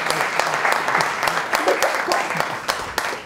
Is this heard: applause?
yes